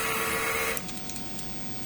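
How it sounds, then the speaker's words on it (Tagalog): A DTF printer running a strong head-clean cycle gives a steady mechanical whir that cuts off partway, followed by a quieter hum with a few faint clicks, close and with no talk. "Ngayon po ay mag-head clean tayo."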